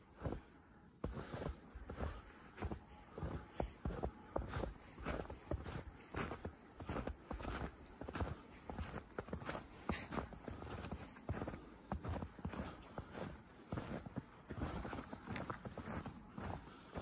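A horse's hooves clip-clop steadily in a fairly dense walking rhythm, close by, with scattered faint shuffling noise around them.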